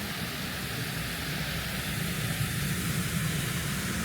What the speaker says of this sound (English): I can't see where this aeroplane is. It must be behind those grey clouds, but it's extremely loud.